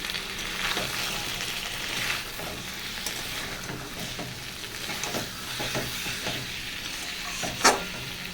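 Fish curry with cauliflower sautés in a pan, a steady loud sizzle and hiss with repeated stirring scrapes and one sharp clink near the end.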